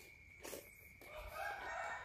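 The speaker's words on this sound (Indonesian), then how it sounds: "Bunyi suara ayam berkokok," A rooster crows in a Malaysian kampung village in the morning, one loud, drawn-out call over quiet rural background, with no talking.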